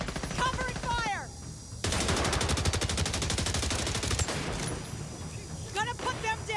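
Sustained automatic machine-gun fire in the shooter game Tom Clancy's Resurgence, a loud, rapid continuous burst lasting several seconds, with a voice talking briefly before and after the fire.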